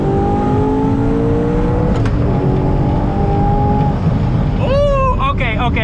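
Twin-turbo rear-wheel-drive Audi R8 accelerating hard in third gear: a loud, sustained engine roar with rising pitch, heard from inside the car and overlapping a voice in the last seconds.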